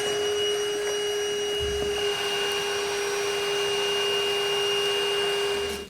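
A vacuum sucks up metal shards from holes drilled during a heavy-duty roof rack install on a 2016 Honda Odyssey, giving a steady, loud, close whine with a constant tone and no talk.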